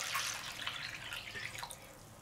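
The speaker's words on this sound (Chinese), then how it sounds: "切好的土豆丁给它加上清水" Clean water is poured from a tap over diced potatoes in a kitchen, a short, close splashing gush that trickles on steadily with no voices.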